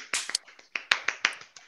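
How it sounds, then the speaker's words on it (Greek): Several people clapping hands close to the microphone, with sharp irregular claps and a few quick double claps over under two seconds, no talking. "ο κόσμος γύρω μου χειροκροτάει και φαίνονται μόνο τα χέρια του στην κάμερα"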